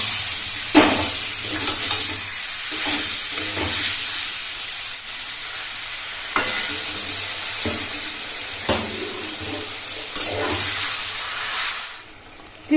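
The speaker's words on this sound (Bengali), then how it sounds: "আরো 10 মিনিটের মতো আমি পেঁয়াজের সঙ্গে একটু ভেজে নেব" Chicken fries with onions and spice masala in a pan, sizzling steadily under a constant hiss, with repeated scraping stirs.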